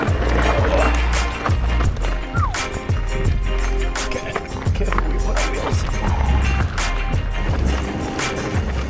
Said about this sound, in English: you can hear my tires had almost no grip on the really steep sections